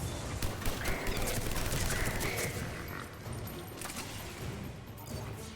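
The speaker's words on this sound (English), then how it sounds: "Shotgun makes us crazy." Rapid, dense shotgun fire in a Mass Effect 3 battle, loud and continuous bursts with crashes layered over one another, easing slightly in the later seconds.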